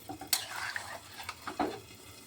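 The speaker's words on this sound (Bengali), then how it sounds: "ভালোভাবে এটা একটু মিশিয়ে নিচ্ছি" Mixed vegetable curry with kathua stalks and added juice and salt is stirred in a pan, a few scraping clinks of a spoon against metal over a soft sizzle, close and fairly quiet.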